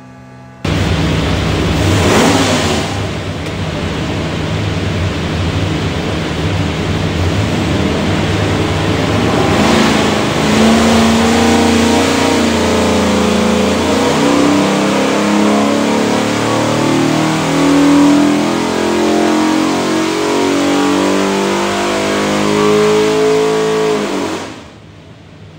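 A dual-carb 347 Ford stroker V8 built for a '65 Mustang roars on a dyno, climbing steadily in pitch through one long, loud wide-open run before cutting off abruptly near the end.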